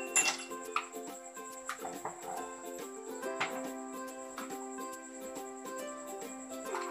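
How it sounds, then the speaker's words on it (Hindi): Ice cubes are dropped into a glass for serving an apple milkshake, giving a series of bright clinks and ringing chimes at the start, then lighter tinkles fading out, with no talking. "गिलास में आइसक्यूब डालेंगे।"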